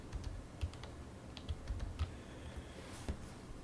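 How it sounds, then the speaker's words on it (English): Keys pressed on the numeric keypad of an Atari 5200 joystick controller: scattered, irregular plastic clicks and taps, close and fairly quiet, with no talking. "Gotta remember the Atari 5200 has the keyboard thing on the joystick."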